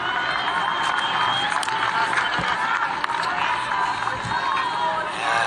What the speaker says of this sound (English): Nice cheer that's come from the crowd.